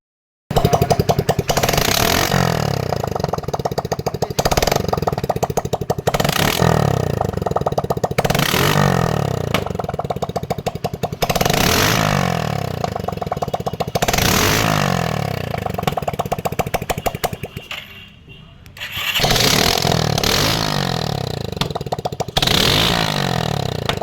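An unsilenced motorcycle engine at a Tirunelveli bike repair shop starts up and runs loud and close, with repeated sharp revs and blips over a rough idle, briefly dropping off near the end before roaring again.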